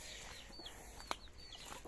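A rooster on a farm gives soft clucking calls, faint and somewhat distant over steady background noise, with a brief sharp sound partway through and no talking.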